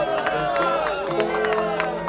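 A crowd gathers in a radio drama scene, a busy murmur of many voices with scattered bright accents, heard close and moderately loud for a brief moment.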